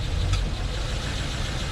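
A $1,400 Range Rover with a blown head gasket runs at idle, giving a steady, close low rumble with no talk.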